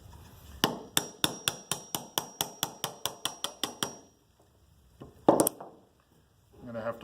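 A chisel held bevel side down is struck in a fast, even series of about fifteen sharp hammer blows, chopping small chunks from wood. A short pause follows, then a couple more knocks and handling noise.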